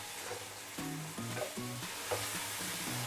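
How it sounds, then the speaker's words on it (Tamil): Eggplant sautéing in masala in a pan, a soft continuous sizzle with scraping stirring strokes, no voices. "கலரி விட்ட பிறகு இந்த மசாலாவிலே வந்து ஒரு 2 நிமிஷம் வரைக்கும் கத்திரிக்காய் வதங்கட்டும்"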